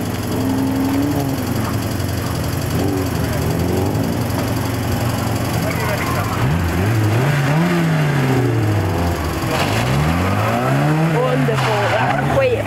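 A car runs a fast slalom and then reverses on a 1997 Ellesmere Port course. Its engine revs rise and fall in repeated swoops, mixed with tire squeal and skidding, loud and close throughout.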